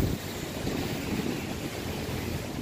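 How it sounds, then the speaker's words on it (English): Steady gusting wind roars around a Hubsan H501S drone flying outdoors near trees, a broad continuous rush with no voices. "The wind trying to take it up to the trees."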